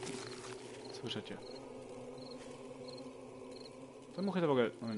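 Flies buzz in the video game 7 Days to Die with a faint, steady drone and short repeating high chirps. A voice briefly rises over the sound near the end.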